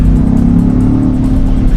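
Range Rover Sport engine revving hard and steadily, a loud, close, continuous growl with no other sounds.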